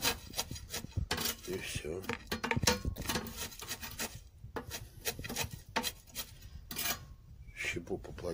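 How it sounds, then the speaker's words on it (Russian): An aluminium rod scrapes and pokes wood chips inside a home smoke generator, making close dry rustling and rubbing with scattered clicks, and a person speaks briefly. "Берем прутик, вот у меня алюминиевый есть, вот так делаем, щепу немножко поплотнее сделать"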